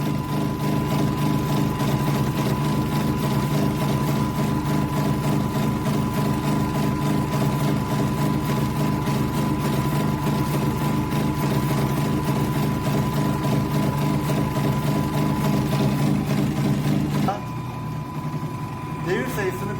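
A shunt dynamo runs at about 1500 rpm, giving a loud, steady machine drone with a constant hum that holds for most of the clip and then drops in level near the end.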